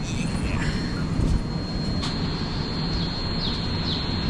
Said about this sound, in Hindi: चलो स्टार्ट हो गई ट्रेन।